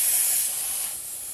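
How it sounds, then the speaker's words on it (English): Air hisses steadily out of a tire through a preset screw-on deflator valve set to 20, a close, loud continuous hiss that eases slightly toward the end, with no voices. "And you can hear the air coming out."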